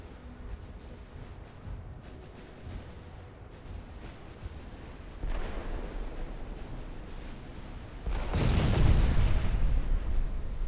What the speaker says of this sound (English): the amount of guns that are firing and how close they are, those 4 battleships are getting shredded